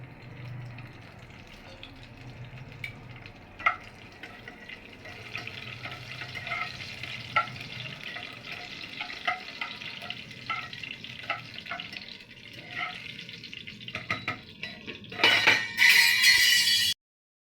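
Bay leaf, cinnamon and dried chilli frying in hot oil for aloo dum, a steady crackling sizzle with scattered spatters and light clinks of a spoon, growing louder and harsher in a burst at the end.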